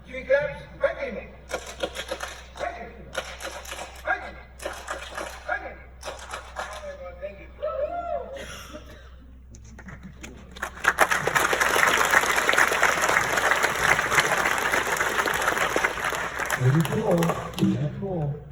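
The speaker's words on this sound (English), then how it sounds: "Three claps, thank you." A lecture audience applauding in a hall: after a few seconds of spoken talk, a dense, sustained burst of clapping fills the second half, fairly loud and close, with voices briefly returning at the end.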